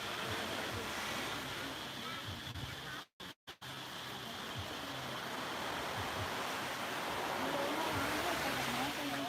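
Sea waves wash steadily onto the shore with wind noise, broken briefly by a few sharp dropouts partway through.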